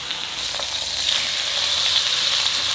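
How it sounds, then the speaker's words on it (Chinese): Chicken thighs, skin side down, pan-fry in a little oil over medium-low heat, a steady close sizzle and hiss that swells slightly partway through and holds evenly, with no voices. "中小火煎到两面金黄。"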